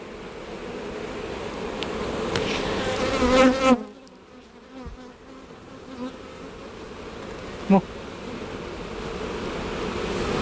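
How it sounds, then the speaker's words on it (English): Honey bees buzz in a dense, steady swarm around a beehive close by, with a brief wind-like rush and a few louder passes near the microphone. "if y'all can see all these bees behind me or not."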